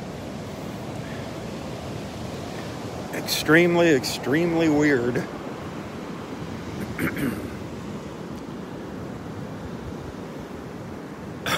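Surf rolls and breaks steadily along the shore at Delnor-Wiggins beach during a morning walk, a continuous wash beneath a voice talking briefly in the middle.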